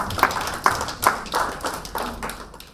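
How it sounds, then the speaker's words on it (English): Audience at a FAWE and Mastercard Foundation scholars graduation ceremony clapping in a loose, uneven patter of hand claps, with a few sharper claps standing out over a steady crowd wash. "I think the FAWE Rwanda team deserves a round of applause"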